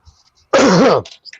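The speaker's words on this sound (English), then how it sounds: "I knew I had a cough." A single harsh, raspy cough-like burst, close and loud, lasting about half a second, with quiet breaths around it.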